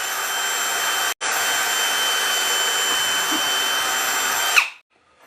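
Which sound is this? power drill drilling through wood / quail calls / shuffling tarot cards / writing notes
power drill drilling through wood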